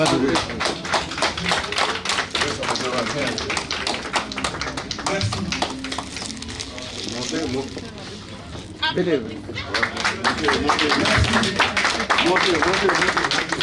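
Sustained applause from an audience at a Paris gala evening, dense and continuous clapping filling the room for many seconds, with voices mixed in underneath.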